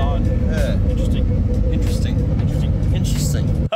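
A 4WD Nissan S15 Silvia with about 800 hp accelerates hard, a loud, dense engine roar with rising revs that stays close throughout, with people talking over it.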